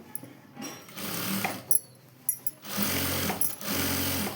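A sewing machine stitches a cross belt on a work blouse in several short bursts of rapid rattling, close and loud, separated by brief pauses.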